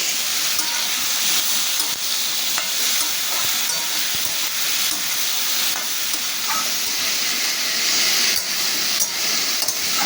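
Vegetables sautéing in a pan with salt, turmeric and a little sugar for a mixed vegetable curry, a steady broadband sizzle and hiss with soft stirring scrapes, continuous and fairly loud with no talking.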